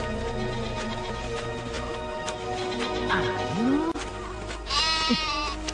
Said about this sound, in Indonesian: mau dibawa kemana kambing itu?